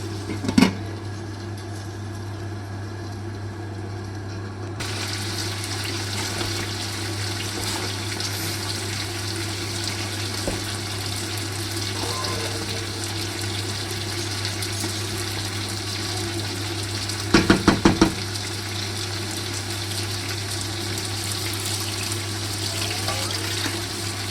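Water is poured into rice in a pot while cooking Andhra-style chicken pulao. A steady pouring and splashing wash runs for the whole stretch over a constant low hum, with a couple of brief clinks; no one speaks.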